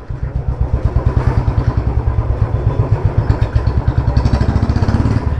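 A motorcycle engine with a manual decompressor revs hard and close, its rapid throbbing firing pulses rising and falling steadily with a rough, clattery mechanical edge.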